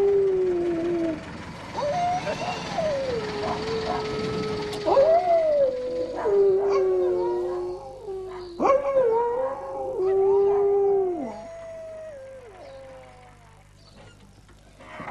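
A dog in a rural Argentine setting howls and whimpers in long wavering, rising and falling cries, several drawn-out howls broken by short yips, close and fairly loud over a faint background.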